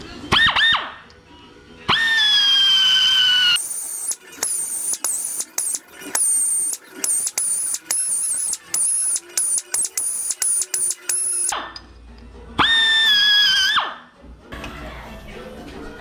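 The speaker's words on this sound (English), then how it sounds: "carbide inserts, like those little triangle-shaped carbide inserts, riding around in there, and what they'll do is make a nice little chamfer" A carbide insert chamfer tool cuts into a Honda K Series sidewinder turbo manifold in loud, high-pitched screeching bursts that start and stop repeatedly, with short squealing cuts between longer grinding passes.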